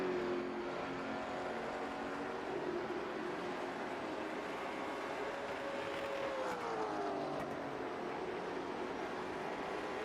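Race cars circle the Nashville Fairgrounds track in a steady, distant engine drone, one car's pitch sweeping slightly as it passes, with no voices over it.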